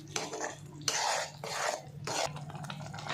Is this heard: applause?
no